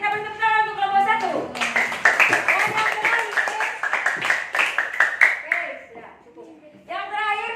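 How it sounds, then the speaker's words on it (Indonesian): A classroom of students gives group 1 a burst of brisk, uneven clapping lasting several seconds, framed by a teacher talking just before and after. "Kita beri tepuk tangan untuk kelompok 1."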